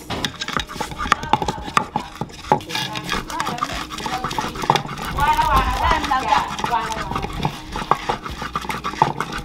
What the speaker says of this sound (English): So we are going to blend the ginger and some garlic and onion. Grind it.